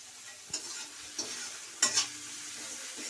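Salted vegetables fry in a pan for vegetarian fried rice, giving a soft continuous sizzle broken by a few sharp spatula clicks and scrapes, with no talking.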